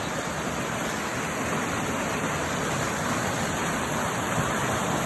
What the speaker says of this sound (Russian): посмотрите на речку нашу прекрасную. Какая она чистая, прозрачная, кристальная